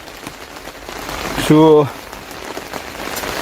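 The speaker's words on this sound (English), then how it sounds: "I'm not sure if you can hear the rain outside or not." Heavy rain lashes down outside, a steady dense patter across the whole stretch, while a person briefly says a single word partway through.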